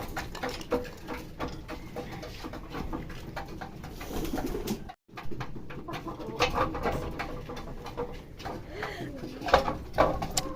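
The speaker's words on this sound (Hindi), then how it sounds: "माशाल्लाह से हम कबूतर लेकर आए हैं।" Newly arrived pigeons in a home cage coo softly and repeatedly over rustling and bird noise, with a person talking through much of it.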